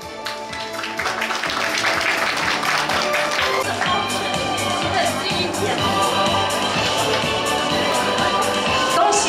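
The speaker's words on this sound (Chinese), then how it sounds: "再一次热情的掌声！" Crowd applause with scattered cheers and clapping at a national honey quality award ceremony, steady and fairly loud throughout as a longan honey winner is honoured.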